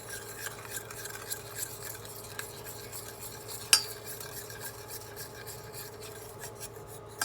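A spoon stirs milk and cacao in a pot over heat, making a steady scraping, rasping rhythm against the metal with one sharp clink midway; quiet and close, no talking.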